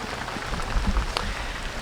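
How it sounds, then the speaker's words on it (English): Steady rain pours down on a wet morning outdoors near a chicken tractor, a dense, even hiss of drops on surfaces with a few louder nearby splashes, no voices. "It's a rainy day, I know."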